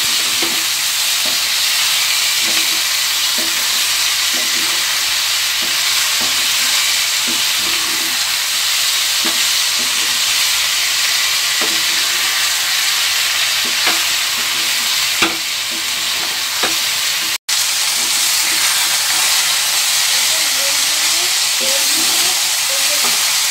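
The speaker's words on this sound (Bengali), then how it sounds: "পাঁচ থেকে ছ মিনিট এরমভাবে হালকা হাতে নেড়ে নেড়ে লতিটাকে ভেজে নিতে হবে" Boiled taro stolons stir-fry in a pan with a steady sizzle and hiss, broken by regular soft scrapes and clinks of a spatula turning them over for the whole stretch.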